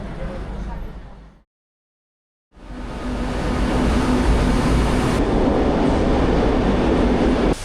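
A Madrid metro train rumbles loudly through the underground, cutting out briefly to silence before the roar of the carriages returns with steady rail noise and some background voices.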